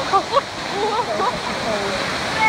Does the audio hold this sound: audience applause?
no